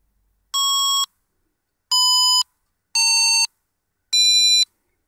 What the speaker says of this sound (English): I've blue tacked the piezo speaker to the side of my phone, so I'm not sure how loud this is going to be, but let's try.